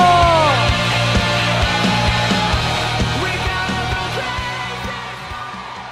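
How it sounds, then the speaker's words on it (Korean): Crowd at a Democratic Party national convention cheering and applauding, loud yells and whoops over dense clapping with rhythmic thumps, fading slightly toward the end. "큰 박수로 맞이해 주시기 바랍니다"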